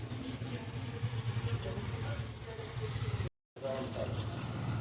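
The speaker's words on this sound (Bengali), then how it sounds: "এই জল দেয়া হলো" Water is poured into a bowl of palm fritter batter, giving a steady rushing splash with background hum and a brief dropout, while a voice speaks over it.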